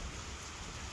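Heavy monsoon rain pours down steadily in Dahod district, Gujarat, during severe flooding: a dense, continuous hiss of rainfall with a low rumble beneath, loud and close throughout the short stretch.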